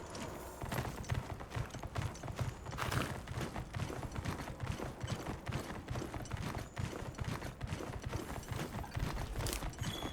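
Mount footsteps while riding in Monster Hunter Wilds, a steady rhythmic clip-clop of hooves at a trotting pace, close and continuous beneath faint ambient game sound.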